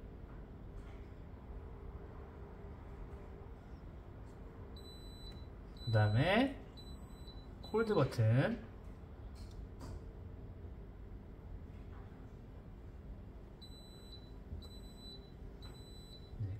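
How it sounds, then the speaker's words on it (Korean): Faint, thin electronic beeps from a Ruhens WHP-3700 water purifier's control panel during a reset, a few short tones at the start and a row of steady repeated beeps near the end, with a person talking in between. "리셋의 경우는 가장 오른쪽 두 개의 버튼을 계속 꾹 누르고 계시면은 알람 소리가 나면서 락이 됩니다."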